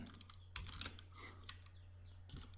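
Code being typed on a computer keyboard, a quiet run of close, irregular key clicks over a steady low hum, with no talking.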